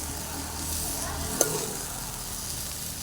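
Dill leaf thoran with egg fries in a pan under a steady, close sizzle, with one brief sharp clink from a utensil partway through and no speech.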